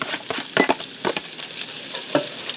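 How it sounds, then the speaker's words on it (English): Bacon and diced shallots fry in a multi-pot over medium to medium-low heat, a soft continuous sizzle broken by several sharp scraping stirs and clatters, close and fairly loud, with no talking. "I'm going to allow this to fry over medium heat to medium low heat so that bacon's done frying and our shallots are nice and tender"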